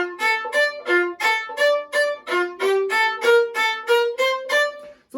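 Viola phrase bowed off the string with a bouncing stroke, short detached notes in a steady pulse stepping through a repeated passage, close and clear with no voices.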